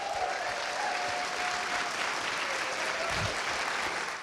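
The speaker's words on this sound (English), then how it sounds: "Please give our panelists a round of applause for the time that they've given." Audience clapping steadily for panelists at an MLK Day event, a full, even wash of applause lasting the whole stretch, with faint tonal sounds mixed into the crowd noise.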